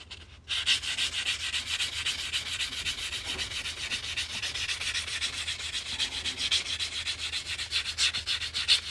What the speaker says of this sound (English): now we're going to sand the cut edge on these and start stretching